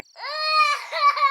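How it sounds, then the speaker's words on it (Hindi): A phone ringtone plays the sound of a crying baby, a loud, close wailing cry that rises and wavers through a few sobbing bursts without any speech. "ये बच्चे के रोने की आवाज कहाँ से आ रही है?"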